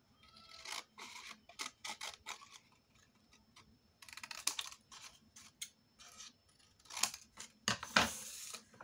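Paper being cut with scissors to trim excess for a handmade scrapbook album, a series of close, crisp snips and rustles in irregular bursts with brief pauses.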